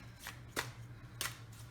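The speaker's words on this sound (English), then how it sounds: "I find these so hard to shuffle" Tarot-style cards being shuffled by hand, three quick riffling bursts separated by short pauses, close and fairly quiet over a low steady hum.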